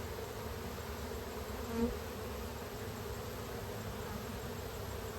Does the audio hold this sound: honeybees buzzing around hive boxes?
yes